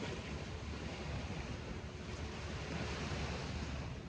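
Sea waves and surf wash steadily onto a Lakshadweep island shore, a continuous broad roar with wind buffeting the microphone and no voices.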